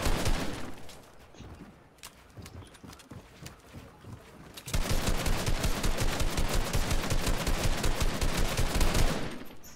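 Rapid gunfire from a first-person shooter played on an HP Pavilion 15 gaming laptop, starting as scattered shots and then turning into a loud, dense automatic burst that runs for several seconds before cutting off.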